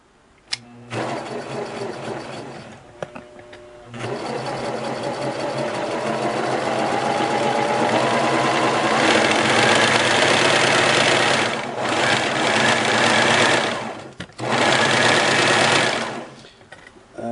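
A Singer Genie Model 353 sewing machine runs with a steady, close mechanical whir that speeds up and holds at a high, even hum, broken by a few brief pauses.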